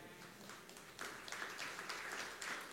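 Faint, distant applause from a church congregation during a sermon, a soft wash of clapping that swells slightly after the first second and continues to the end.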